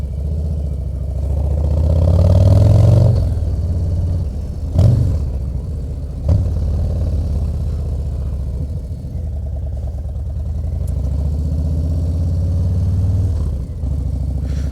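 A 2023 Harley-Davidson Low Rider ST with its 117 motor idles with a low, steady rumble, rising into a deeper swell of revs early on, with a few short blips as it settles back to a loping idle.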